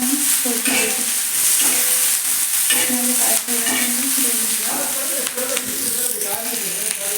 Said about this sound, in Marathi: आता हा सौदा तळून घेतो